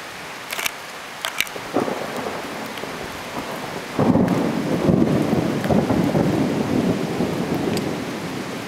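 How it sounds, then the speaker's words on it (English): Thunder rumbles through a thunderstorm over steady rain, with a few sharp cracks early on and then a deep, loud rolling boom that swells and lingers under heavy rainfall. "Just now I was hearing a lot of lightning sounds"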